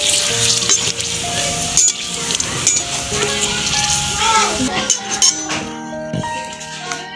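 Fuchka puris frying in hot oil on a freshly lit village stove, with loud continuous sizzling and bubbling, clinks of a utensil against the pan, and a voice talking over the cooking.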